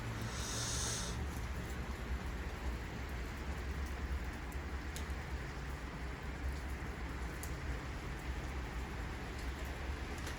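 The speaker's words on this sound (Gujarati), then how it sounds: "વરસાદે ભેગો ચાલુ હોય ને ભેગો સ્નોય ચાલુ છે." Rain falling together with snow outdoors in Canada, a faint, even hiss of precipitation continuing steadily with a few soft taps and no talk.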